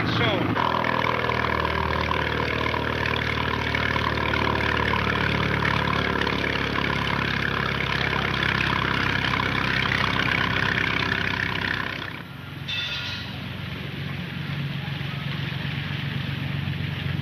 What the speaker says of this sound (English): Take a look at that engine when we get in, Joe.